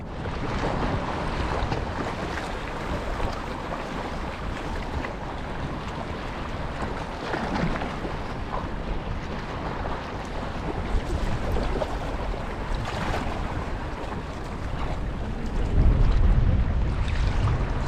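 Strong gusts of wind buffet the microphone on the Llandudno seafront in Wales near high tide, a continuous broadband roar swelling in waves and peaking near the end, with surf and water noise underneath.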